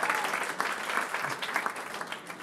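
A crowd applauds for Josh Williams, with steady, fairly close clapping filling the whole moment and no voices rising above it.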